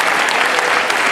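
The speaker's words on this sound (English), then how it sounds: "you see the thunderous applause for Gru versus Conan" Thunderous audience applause fills a Comic-Con panel room at San Diego Comic-Con 2014, a dense, steady wash of many hands clapping at once, loud and close throughout.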